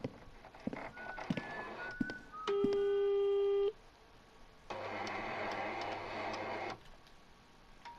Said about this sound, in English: Is it the printer?